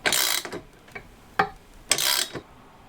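Bike fork being pressed in with a long threaded bar, washers and nuts, giving several short scraping, ratcheting bursts and sharp clicks at uneven intervals, close and moderately loud, no talk.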